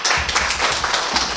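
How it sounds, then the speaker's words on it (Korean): A church audience at a community study presentation applauds to welcome a speaker, a short burst of dense, even clapping from many hands, close and steady. "강의 나오실 때 박수로 환영하겠습니다"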